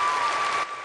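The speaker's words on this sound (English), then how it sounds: "Oh, I have applause." Brief burst of crowd applause with steady clapping across the moment, fading slightly near the end; no voices stand out.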